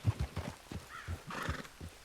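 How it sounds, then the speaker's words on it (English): Horse from Red Dead Redemption whinnying over a quick series of hoofbeats, brief and close with no voices. "Hey, that's a nice looking horse you have there."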